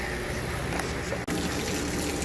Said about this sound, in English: That is the pathetic water pressure I get out of the hose bib that they dedicate up on the rooftop.